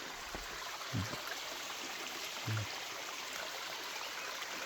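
A small forest waterfall running with very little water gives a faint, steady trickling wash, with a couple of soft low bumps and no clear talk over it.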